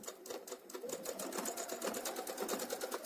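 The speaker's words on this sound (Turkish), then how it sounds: "tekrar dikişimizin olduğu yerden dikiş hizamızdan tekrar devam ediyoruz dikmeye." A sewing machine stitches continuously along a seam line, a fast rhythmic run of needle clatter heard close and fairly quiet with no voices.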